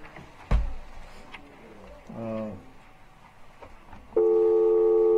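A telephone tone after a number is dialed, a steady loud electronic tone switching on near the end, preceded by a sharp knock, faint clicks and people talking.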